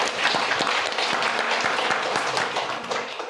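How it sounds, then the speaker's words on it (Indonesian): An audience applauds at a land-certificate program evaluation event, a steady wash of clapping with a few sharper individual claps standing out over several seconds. "Luar biasa ya, tepuk tangan dong."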